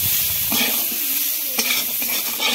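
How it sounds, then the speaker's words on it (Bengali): Potatoes fry in hot oil with turmeric and salt, a dense, loud, continuous sizzle punctuated by scraping stirring strokes in the pan. "লাল লাল করে আলুটা ভেজে নেবে।"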